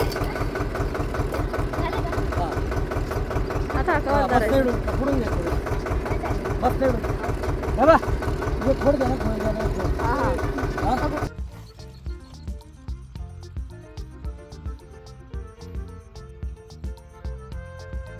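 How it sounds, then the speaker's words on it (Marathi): A tractor engine idles in a wet field at maize sowing time, a steady close rumble for about eleven seconds, then a quieter ticking run, with people talking over it. "आपल्याकडे ट्रॅक्टर आहे पण ट्रॅक्टर पण जरा असं फसतोय"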